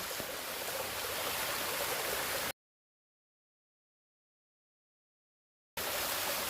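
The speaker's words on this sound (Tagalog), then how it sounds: "mataas na falls" A tall waterfall in a forest roars as a steady broadband rush of falling water, broken by a gap of silence in the middle before the continuous roar returns.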